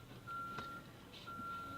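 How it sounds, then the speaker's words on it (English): Reversing beeper on a yard truck in a freight yard: two long steady tones, each about half a second, separated by a pause, heard alone over a constant low engine and ambient rumble. "I've seen enough of these yard trucks and beeping and their headlights in my eyes."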